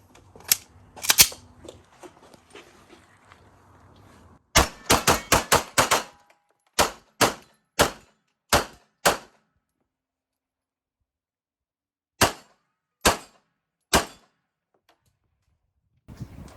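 Glock pistol fitted with a Timney trigger firing at steel targets: a rapid string of sharp, loud shots around mid-clip, then several spaced single shots, with fainter activity at the start and a long quiet stretch before the last few reports.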